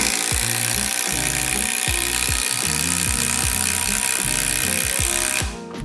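A Harbor Freight impact driver drives lag screws, giving a steady, loud, rapid hammering rattle that repeats at a regular pace for several seconds before cutting off abruptly at the end.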